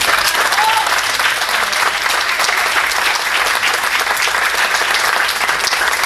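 A large audience at a public school gathering breaks into sustained, loud applause that holds steady throughout, dense clapping from many hands with a faint murmur of the crowd underneath.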